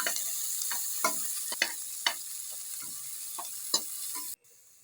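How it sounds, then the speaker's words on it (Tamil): Onion sautés in a pan with a soft, steady sizzle and a series of irregular scraping taps from a stirring spoon, before the sound cuts off abruptly near the end. "ஒரு வெங்காயம் அதை தான் நம்ம போட்டு இதை வதக்கிறோம்"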